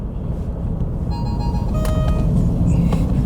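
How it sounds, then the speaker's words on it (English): An Alfa Romeo Stelvio on a racetrack gets a throttle kick and downshift, the engine note rising steadily over about three seconds with stepped tonal shifts and a few sharp clicks near the end. "Kick the throttle, downshift."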